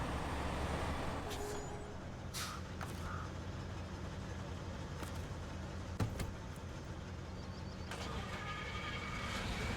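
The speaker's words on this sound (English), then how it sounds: "That other truck is still running." A truck engine in the video game SnowRunner idles with a low, steady rumble, with a faint hiss and a few soft clicks over it.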